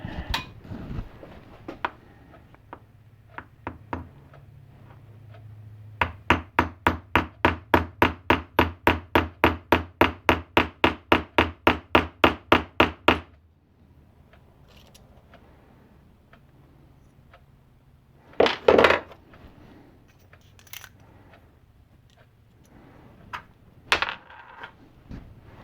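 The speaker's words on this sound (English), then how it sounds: "So go ahead and drive it in until that part disappears." A small metal mandrel taps a replacement part into a Rotring 600 Trio pen, with a quick run of about twenty evenly spaced light metallic taps, then a pause and a few scattered clinks and knocks.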